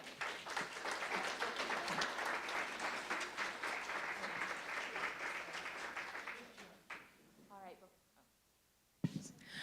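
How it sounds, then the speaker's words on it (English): An audience at a talk on a family's Holocaust history claps in a dense, sustained round of applause for about six seconds, then it thins out and fades, with a brief sharp sound near the end. "Let's give her another round of applause."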